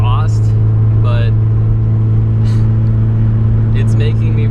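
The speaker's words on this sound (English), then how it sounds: "I'm not complaining about the volume of my exhaust" A steady, loud low drone from the turbo exhaust of a Nissan Fairlady 240Z, heard from inside the car and running constantly while a voice talks over it.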